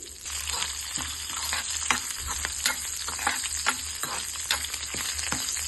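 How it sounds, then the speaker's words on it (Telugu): Garlic, dried red chillies and curry leaves fry in hot oil, producing a constant close sizzle dotted with sharp crackles and light stirring clinks, with no speech. "ఇందులోనే కొద్దిగా వెల్లుల్లి ఎండుమిర్చి అలాగే కొంచెం కరివేపాకు వేసుకొని వేయించుకోవాలి"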